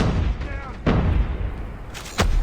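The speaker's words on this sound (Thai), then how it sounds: "โอ้ปืนลั่น" Gunfire in Call of Duty Mobile, two sharp loud shots about a second apart standing out over steady game noise, with a player's voice nearby.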